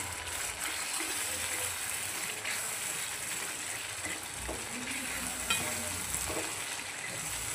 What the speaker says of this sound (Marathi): छानपैकी यांना मसाल्यामध्ये आपण परतून घेऊया.